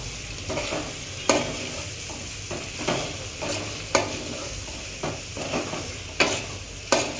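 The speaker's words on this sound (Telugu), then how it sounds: "కారం వేసుకున్నాక బాగా కలుపుకోవాలండి." Steady stirring of bitter gourd curry after chili powder goes in, a spoon scraping a pan in regular strokes over a continuous frying sizzle, close and moderately loud.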